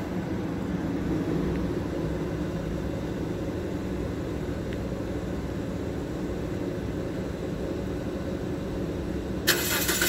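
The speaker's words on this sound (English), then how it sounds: "the car started fine, no problem" A 2009-2013 Toyota Corolla engine running after a remote start, a steady low idle hum without interruption, with a short sharp click near the end.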